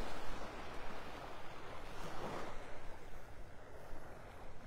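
Waves wash in a soft, continuous rush on a quiet early-morning beach in North Naples, Florida, with light wind noise over the microphone.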